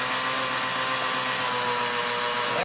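Electric mixer whirring steadily through donut batter made with flour, sugar and oil, a constant mid-pitched motor drone with no break, ending abruptly when switched off, no voices.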